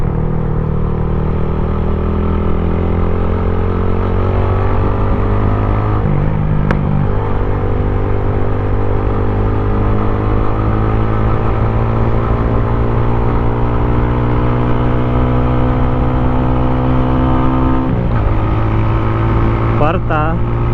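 A Motorstar Cafe 150 motorcycle climbing an uphill road at around 60 km/h, its engine droning loud and steady close to the microphone, with a brief shift in pitch partway through and wind rushing throughout.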